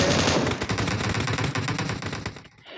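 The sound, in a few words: gunfire in a video game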